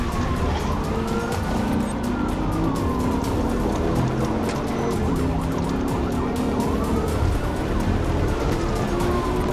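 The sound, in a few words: police siren during a high-speed chase at night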